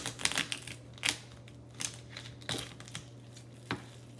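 Scissors or shears crunch through cooked lobster shell in a run of sharp, crackly snips, half a dozen irregular cuts close up against quiet kitchen background, no voices.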